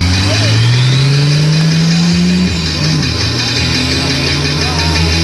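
A car engine revs hard during a spinning handbrake manoeuvre, a loud sustained rising drone that drops and climbs again, close by, with people talking over it.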